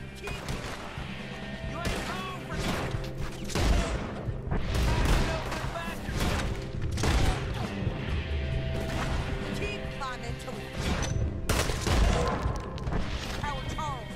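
Gunfire in Red Dead Redemption 2 rings out as repeated sharp shots and heavy booms in a busy, loud firefight, with crashes and a voice talking in between.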